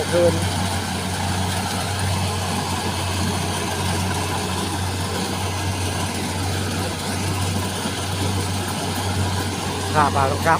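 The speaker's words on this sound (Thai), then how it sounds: "รถเกี่ยวข้าวเป็นกระสอบได้ คนเกี่ยวกลางคืน" Combine harvester cutting rice in a field at night, a steady low engine drone close by with voices talking over it.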